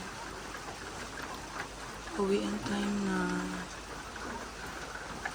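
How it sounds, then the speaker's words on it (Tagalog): Steady rain falling outside glass villas in Indang, Cavite, a soft continuous hiss throughout, with a person speaking briefly in the middle. "And it's still raining."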